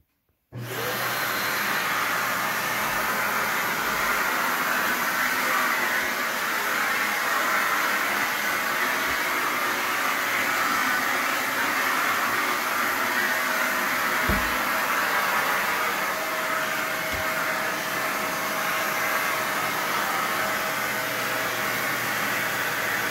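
A Bissell Big Green Commercial BGC3000 canister vacuum runs continuously, a loud steady whooshing roar that starts abruptly and holds level throughout, with a few faint bumps and no talking.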